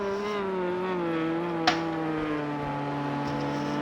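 An LP2 race car leaves pit lane in a racing video game, its steady engine drone holding at an even pitch with one brief click partway through, with no voices.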